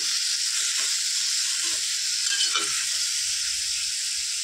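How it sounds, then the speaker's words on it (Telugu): Half a kilo of tomatoes fries in a pan with a steady, dense sizzle that holds evenly throughout, with a few faint stirring scrapes and no speech. "ఇందులో 1/2 kg టమాటా వేసుకొని ఇది మంచిగా ఫ్రై కావాలి"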